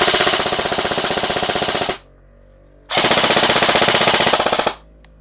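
A Krytac Vector airsoft gun fires on full auto in two loud, close bursts of rapid mechanical shots, the first about two seconds long, then a short pause before a second burst of similar length.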